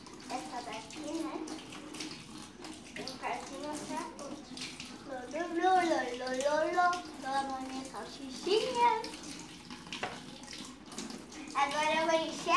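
Tap water runs steadily into a container while making a hot dog at home, with a voice talking over the flow and some clinks.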